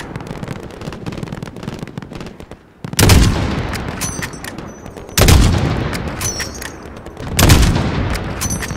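Heavy gunfire and explosions in the Call of Duty Modern Warfare 2019 video game, continuous crackling shots punctuated by three loud booming blasts at regular intervals, with no talk.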